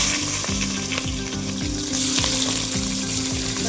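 Chopped onion with green chilies sizzles loudly in a pan during village-style cooking, the constant crackle broken by a regular rhythm of stirring strokes.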